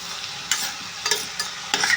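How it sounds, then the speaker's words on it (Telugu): Broad beans and onions fry in a pan on a home stove, giving a steady sizzle with several louder bursts as the food is stirred. "ఇవి అవి ఫ్రై అయ్యే వరకు అయితే ఫ్రై చేసుకుందాం"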